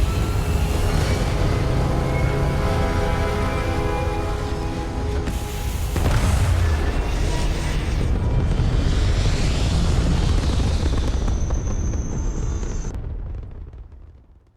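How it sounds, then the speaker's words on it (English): Spaceship thrusters fire in the video game Starfield, a loud sustained roaring rumble with a swell partway through that fades away at the end. "Thrusters firing."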